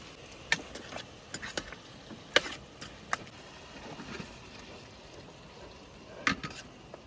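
Butter frying in a pan of butter chicken masala at an outdoor campsite, a steady soft sizzle broken by scattered sharp pops and crackles, close and fairly quiet with no talk.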